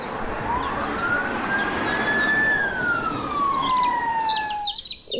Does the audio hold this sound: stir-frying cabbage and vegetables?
no